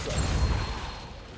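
A Depulso spell goes off in Hogwarts Legacy, a short dense magical burst that is loud and close and fades within about a second and a half, with no talk over it.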